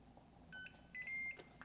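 A home ice cream maker mixing pistachio ice cream ends its cycle with faint electronic beeps: a short tone, then a longer one, in a quiet kitchen with no talking.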